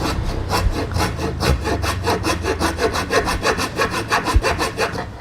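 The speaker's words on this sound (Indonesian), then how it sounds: "Nah jadi posisinya Olfa H1 memiliki fitur gergaji tarik." An OLFA 213B pull saw cuts through wood in a rapid, even run of rasping strokes that grow steadily more rhythmic, close and clear, with no talking.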